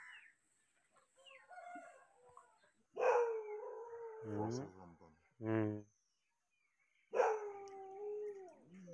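A dog howls and barks in drawn-out, wavering bursts with pauses between them, fairly close and prominent against an otherwise quiet outdoor background.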